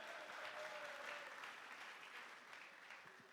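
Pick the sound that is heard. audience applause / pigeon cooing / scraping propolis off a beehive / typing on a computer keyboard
audience applause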